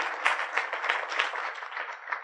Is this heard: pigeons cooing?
no